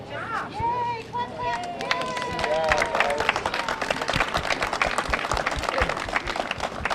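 People clapping at a plaque dedication for a bowling Walk of Fame, a burst of brisk close handclaps and cheering that builds after a few seconds of excited voices and continues densely to the end.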